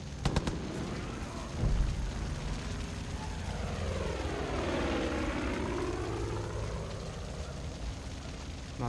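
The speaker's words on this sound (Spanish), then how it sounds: "Esa avioneta distrajo al enemigo" A propeller airplane in the video game Far Cry 5 flying overhead, its droning engine rising in pitch and loudness as it nears, then falling away as it passes, with sharp gunshot-like cracks at the start.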